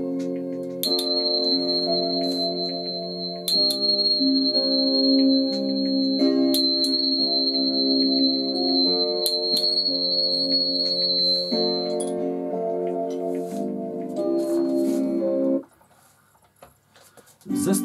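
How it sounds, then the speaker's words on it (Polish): Metallic tones from a set of therapy tuning forks ring out steadily, overlapping in sustained, shimmering layers with a high pure note held throughout, then fading away near the end. "zestaw kamertonów Energia 2 stosujemy zawsze na zakończenie każdej terapii z użyciem dźwięków kamertonów"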